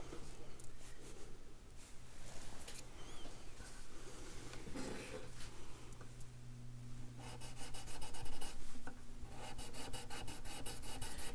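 A violin body rubbed with cleaner to lift rosin and peg dope, giving a continuous close scrubbing and rasping sound with no talk.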